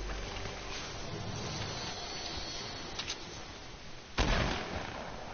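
A gunshot in a multiplayer shooter game rings out as one sharp, loud burst near the end, preceded by a couple of faint pops over steady background noise.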